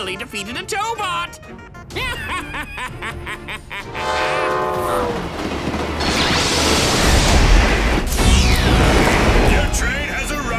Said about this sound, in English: Your train has arrived!